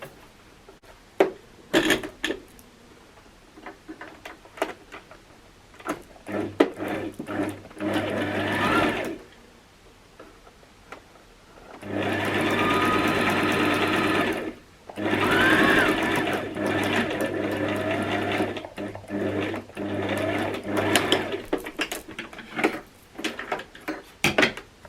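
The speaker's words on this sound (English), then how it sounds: "you top stitch it on top with a zigzag stitch just to hold it in" A home sewing machine runs a zigzag top stitch across a pleated fabric face mask with a nose wire, in two long steady whirring runs, loud and close, with handling clicks and rustles before and between them.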